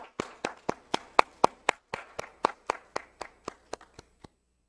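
A church congregation clapping during a Wednesday evening service: about seventeen sharp, evenly spaced claps in unison that gradually soften and slow before stopping, with no talk.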